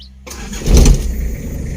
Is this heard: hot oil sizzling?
no